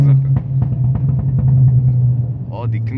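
An Abarth 595 idles and rumbles with a low, steady exhaust drone, broken by a few sharp crackles and pops near the end, while people talk over it.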